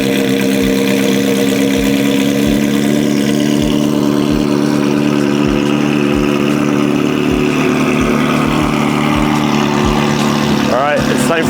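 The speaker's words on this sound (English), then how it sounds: "get a good listen at this Powercraft exhaust, because it sounds pretty mental" A straight-piped Ferrari 360 race car with a Powercraft exhaust idles with a deep, lumpy rumble and regular low pulses, steady and close throughout, with a brief rev-like sweep near the end.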